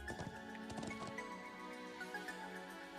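Horse hooves clip-clop faintly in the Trails of Cold Steel 3 video game, a few quick taps early on under a sustained musical backdrop.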